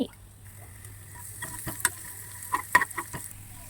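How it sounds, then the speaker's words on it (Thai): Garlic stir-fries in a pan with a faint low sizzle, broken by a series of sharp clinks and scrapes from a spatula against the pan, close by with no speech. "แล้วก็ผัดผัดผัดผัดไปแบบนี้ค่ะ จนมันเหลือง"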